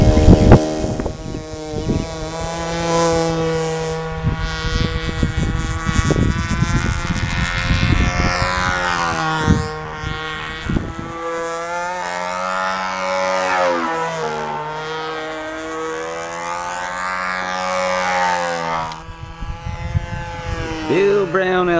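A control line stunt model airplane's small engine whines loudly at a stunt contest, its pitch rising and falling in sweeping arcs as the plane circles and climbs through manoeuvres, with an announcer talking over it.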